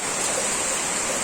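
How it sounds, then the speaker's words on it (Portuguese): Heavy rain pours down outside, a steady, uniform hiss of water with no distinct drops or pauses, moderately loud and unbroken for the short moment, no one speaking. "Muita chuva mesmo."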